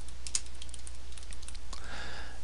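Quick light keystrokes on a computer keyboard, a short run of clicks typed steadily, fairly close and alone over a faint background hum.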